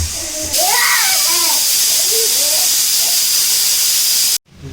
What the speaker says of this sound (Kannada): ನೋಡ್ರಿ ಏರೆಲ್ಲ ಹೋಗ್ಯದ. ಕುಕ್ಕರ್ ತೆಗಿಯತ್ತ ನೋಡ್ರಿ.